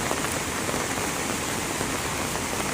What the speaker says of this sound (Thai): มาเจอฝนถล่ม